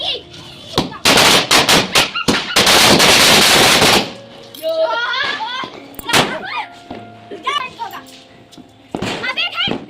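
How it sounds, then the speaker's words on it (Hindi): A fast, loud crackle of firecrackers bursts in a rapid string during Diwali celebrations, then scattered pops continue while children shout and chatter excitedly. "यहाँ पटाखों का बट्टा लगा है"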